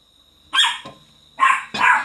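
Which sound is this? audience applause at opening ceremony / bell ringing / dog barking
dog barking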